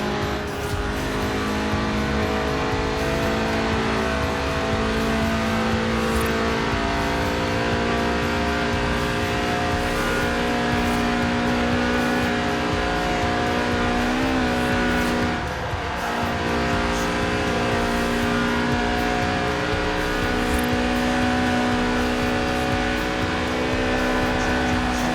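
A Lotus sports car with a 1.8-litre engine revving toward 8,000 RPM in the racing game Forza Horizon 4, a loud, steady high-pitched roar with slight pitch shifts and no talking.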